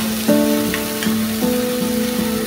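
Spice masala for katla fish sizzles steadily as it is sautéed in a pan, a continuous close frying hiss running beneath a steady tonal hum throughout.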